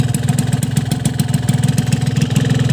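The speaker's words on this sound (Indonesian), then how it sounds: "Untuk suara mesin sih lumayan renyah ya" A two-stroke CTX REV motorcycle engine with a CTX exhaust idles close by, loud and steady, its rapid uneven pulsing putter running throughout with no voices.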